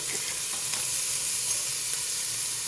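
Garlic sizzles with translucent onions in a hot pan, a dense, steady hiss with faint stirring scrapes, close and continuous with no voices.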